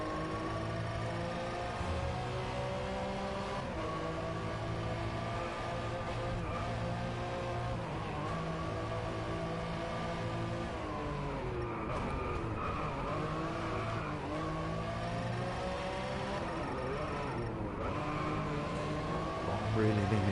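Race cars drift through corners in the VR racing game Driveclub VR, with engines revving and rising and falling in pitch alongside tyre squeal, loud and continuous while a voice talks over part of it.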